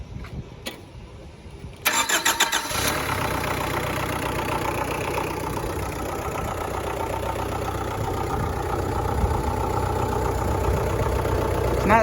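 A Datsun 5K forklift's Nissan SD22 diesel cranks briefly on a cold start, then catches and settles into a loud, steady, clattering idle that runs on close by.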